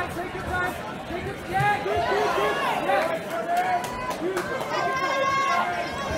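Thousand-strong crowd at an outdoor boxing match in Camden Square, steady murmur and chatter of many voices with a commentator talking over it throughout.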